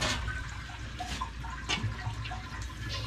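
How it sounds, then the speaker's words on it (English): A toilet flushes just after a tank rebuild with a Korky universal kit, giving a steady rushing gurgle of draining water with no pauses, loud and close. "Flush the toilet."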